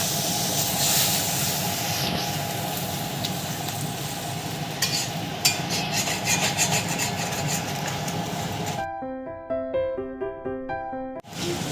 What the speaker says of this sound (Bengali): এরপর আমি 1 কাপ মতো গরম জল দিয়ে মশলাটাকে ভালো করে খানিকক্ষণ কষিয়ে নেব।